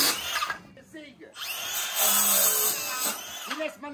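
A power saw whines steadily through a cut, loud and close, with short bursts of talking before and after.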